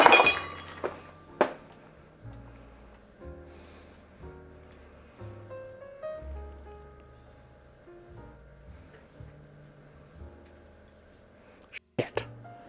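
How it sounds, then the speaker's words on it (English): A drinking glass breaks during a home bourbon tasting, a sharp crash and clink near the start, followed by scattered small clinks and handling knocks, with another pair of brief sharp impacts near the end. "New glass, because I just broke the last one"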